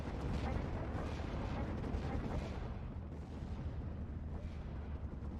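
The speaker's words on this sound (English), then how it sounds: "Mortars are opening up on the off map and the 37." Mortar and artillery fire in the World War II strategy game Steel Division 2, a dense, continuous rumble of booms and blasts that stays loud and steady with no talk over it.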